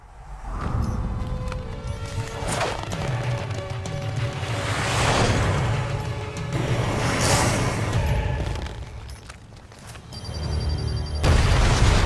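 Booming bomb explosions and crashing debris from a Marvel Ultimate Alliance 2 cutscene roll on continuously under a dense cinematic score, loud and layered, with no speech.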